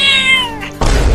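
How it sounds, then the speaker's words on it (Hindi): A cat gives one loud, close, drawn-out meow that falls away, followed by a dull thump and some rustling. "अरे बच्चों को बुलाया और ये बिल्ली आ गया"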